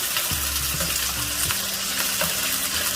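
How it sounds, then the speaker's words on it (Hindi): One kilogram of chicken frying in hot oil in a karahi, stirred around the pan; steady loud sizzle with low scraping stir sounds, no talking. "चलिए, चिकन मैंने इसमें डाल दिया तो थोड़ा सा हम हिलाते हैं।"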